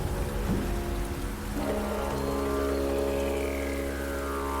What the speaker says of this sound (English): I literally just have a YouTube video open that says thunder sounds